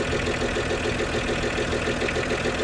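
A car engine runs steadily at idle with a sharp, dry, rapid ticking beat, a car that is dripping oil, heard close and continuous with no talk.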